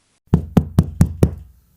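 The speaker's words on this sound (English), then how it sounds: "The knocking continued, patient, polite." Five firm, evenly spaced knocks on a door, close and loud in a steady rhythm, followed by silence.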